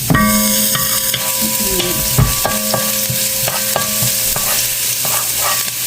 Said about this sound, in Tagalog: Gisa-gisa na yung ginger.